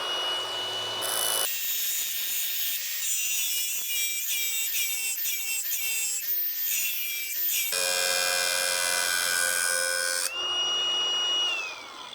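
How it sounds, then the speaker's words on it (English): Angle grinder fitted with a see-through grinding disc working against metal, a loud continuous whine with shifting pitch, short bursts and interruptions as the disc bites and lifts, up close with no talking. "You can literally see through the disc as you're grinding"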